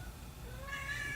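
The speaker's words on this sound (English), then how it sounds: "if you can hear cats meowing" A cat in heat meows in drawn-out rising calls, fairly clear and close, over a low background hum with no talk.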